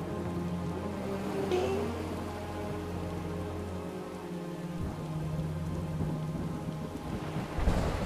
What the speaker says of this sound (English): Look at that, thunder and lightning. It's really coming down, huh?